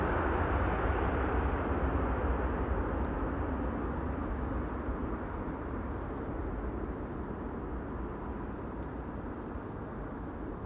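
An airliner lands at Amsterdam Schiphol with its thrust reversers engaged, a steady broad roar that holds loud and even for the whole stretch, slowly easing toward the end, with no voices over it.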